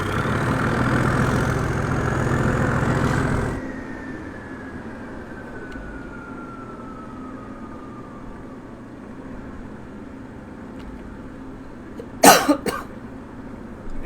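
Locomotive engine in Train Simulator 2022, a loud steady engine roar with a rising whine that cuts off abruptly, leaving a faint drone and a fading descending tone, then a sharp burst of noise near the end.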